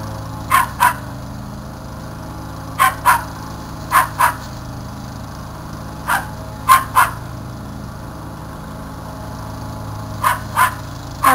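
A dog barks in short pairs and single yips, about a dozen sharp barks spread unevenly across the clip, fairly near and clear over a quiet background hum.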